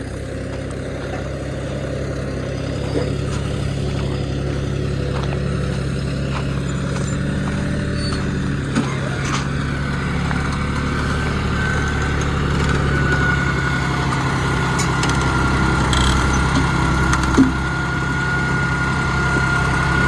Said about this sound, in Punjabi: ਪਾਲੇ ਟਰੈਕਟਰ ਇੱਥੇ ਆ ਗਿਆ ਸੀ